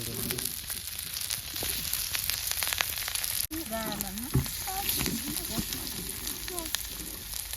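Fish fries in hot oil over an outdoor fire in a forest, a constant crackling sizzle with sharper spits and pops, while a voice speaks briefly partway through.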